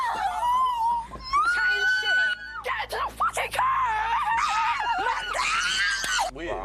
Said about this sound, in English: Why are they screaming?